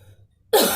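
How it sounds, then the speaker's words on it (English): A single short, harsh cough from a man with a cold, close to the microphone and fairly loud, following a moment of near silence. "excuse the coughing"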